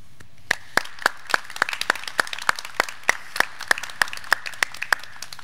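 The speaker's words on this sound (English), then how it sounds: "please stand so we can also applaud you." Audience clapping for adjunct instructors at a physical therapist assistant pinning ceremony, a sparse, slow series of individual sharp claps from a small number of people, fairly close and evenly spaced.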